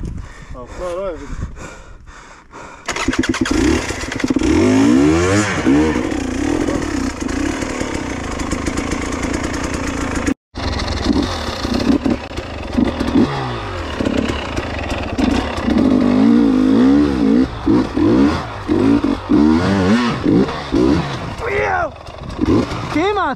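Off-road motorcycle on the Hatfield McCoy Rock House single-track trail, its engine repeatedly revving and bogging in rising and falling bursts, loud and close, with a rider talking and breathing heavily over it and a brief dropout midway.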